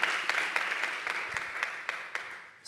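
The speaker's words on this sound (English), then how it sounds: "give Eva another round of applause" Audience at a racial equity summit evening in Richmond giving a round of applause, a steady mass of clapping with a few sharper individual claps standing out, fading near the end.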